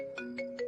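A phone ringtone rings out in three repeated bursts, a steady electronic tone with brief swells, close and clear, as a call goes unanswered.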